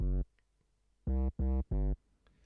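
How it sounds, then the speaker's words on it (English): Saturated 808 bass in a grime instrumental: four deep, buzzy sub-bass notes, one short hit followed after a pause by three quick sustained hits, loud and alone with no talk. "you can put a saturator on it and it's going to sound more like this"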